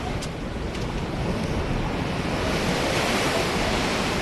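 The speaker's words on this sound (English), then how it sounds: "there's some big waves there." Big sea waves crash and roar continuously along the Scarborough coast, a loud, dense wash of surf with heavy wind buffeting close to the microphone, no voices heard.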